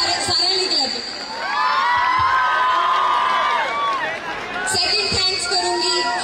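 A crowd at a Punjabi film trailer launch event at a university cheers, whoops and claps, loud and continuous, swelling in the middle with a brief dip before rising again.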